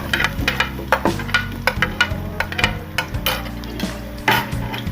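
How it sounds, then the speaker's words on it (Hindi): Onions going into hot oil in a pan, a busy clatter of spoon stirring and scraping against metal over a steady sizzle, close and fairly loud with no talking. "तो अब चलते हैं अपने पैन की तरफ, और हो चुका है तो ऑयल के अंदर हम डालेंगे प्याज।"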